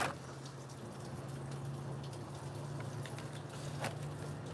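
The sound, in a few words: rain falling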